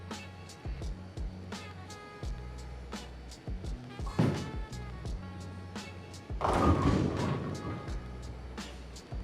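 A bowling ball rolls down the lane in a bowling alley and strikes the pins, a steady rumble building to a crashing impact partway through, with ambient alley noise around it.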